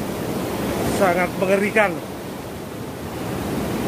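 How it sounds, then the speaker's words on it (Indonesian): Strong surf at Nampu beach in Wonogiri, with waves above four metres, makes a steady broad roar close by. Someone speaks briefly over the crashing water. "Hari ini gelombangnya sangat luar biasa"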